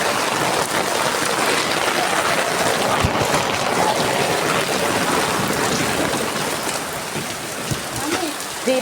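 Heavy afternoon rain from a sudden storm pours outside a home, a thick, constant roaring hiss that holds steady for the whole stretch with no voices over it.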